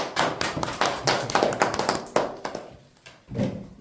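A small audience claps at a leadership academy opening ceremony as a guest is called forward, with distinct individual hand claps in an uneven patter that thins out and fades, then one last cluster of claps.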